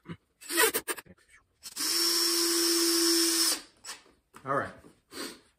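A power drill driving a screw into a wooden bench gives one close, sustained whir of about two seconds, with brief shuffling and a voice before and after it.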